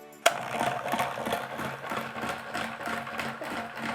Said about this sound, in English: We put it in our machine, and then we turn it on.